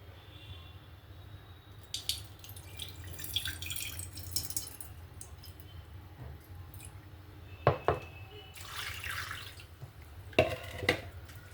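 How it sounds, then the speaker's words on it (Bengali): Flattened rice (poha) is rinsed in a bowl of water, giving soft irregular splashes, drips and trickles with a few sharper sloshes near the end, quiet and close. "দেখুন এখানে জল দিয়ে দিলাম ভালো করে দু দু থেকে তিনবার আমি ধুয়ে নেব"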